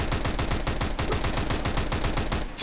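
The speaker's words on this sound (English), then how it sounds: "He doesn't even know we're shooting anymore" Rapid automatic gunfire in Counter-Strike: Global Offensive rattles loud and close in a dense, continuous burst with no pauses, with no talking over it.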